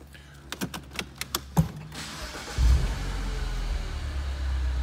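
A 2014 Mini Cooper S Convertible Highgate Edition starts up: a run of sharp clicks and a brief cranking whir give way to the engine catching into a low, steady idle, close by and moderately loud.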